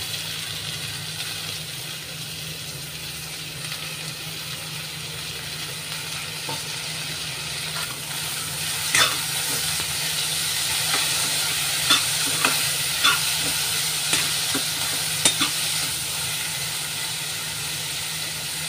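Two medium onions fry in a pan with a steady hiss, then tomatoes are added and stirred, bringing several sharp scrapes and clatters over the continuous sizzle, close by.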